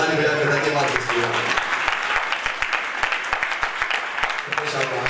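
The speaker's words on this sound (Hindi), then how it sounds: "ताली बजाकर धन्यवाद दीजिए।" A church congregation claps in thanks during a worship service, a dense, continuous wash of many hands with speech-like voices rising beneath it at the start and end.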